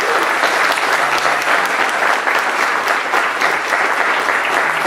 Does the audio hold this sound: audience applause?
yes